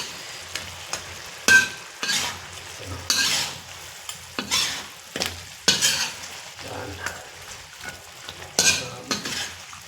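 Food stirring and sizzling in a pan as its sauce cooks down, with repeated scraping stirs and a steady frying hiss, close and moderately loud, no talking.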